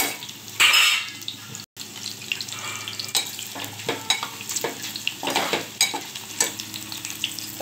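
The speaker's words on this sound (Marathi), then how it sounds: "त्या तेलामध्ये पनीर मस्त असं थोडंसं लालसर करून घ्यायचं" Paneer fries in plenty of oil in a pan, with a steady sizzle and intermittent stirring scrapes and clatters. A brief louder splash-like burst comes early, followed by a short silent gap.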